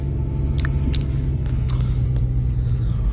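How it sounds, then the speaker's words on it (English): A car drives along a road with a steady low rumble of engine and tyres, continuous and close, with a few faint clicks and knocks from inside the cabin. "Well, we are driving now."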